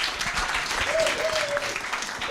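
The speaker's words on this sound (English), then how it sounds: "Round of applause for our panelists." An audience at an agricultural career fair opening applauds its panelists, a dense, steady wash of clapping filling the room for a couple of seconds.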